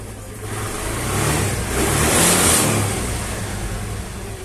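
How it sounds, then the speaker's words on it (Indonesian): A motorcycle engine revs up under the throttle and eases back down, a close, loud rising and falling roar with no talking. "digas masih menyala normal"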